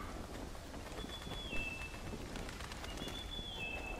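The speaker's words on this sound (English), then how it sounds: "That's not a real bird cry." Birdlike cry with a short whistled, falling tone, sounding twice over a steady forest ambience in a Telltale Game of Thrones game scene, faint and distant.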